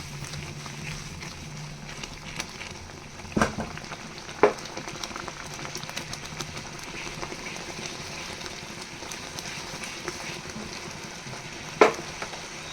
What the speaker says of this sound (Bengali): এইবারে আমি সুজিটাকে হালকা হালকা করে দিয়ে নাড়তে থাকবো